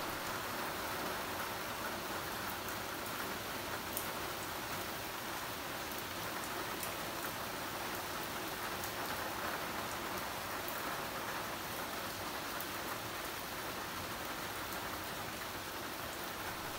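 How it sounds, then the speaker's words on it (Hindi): Heavy rain pours steadily outdoors, a dense, even hiss of drops hitting surfaces that holds constant throughout with no voices over it. "लेकिन अब बारिश थोड़ी सी तेज़ हो गई थी"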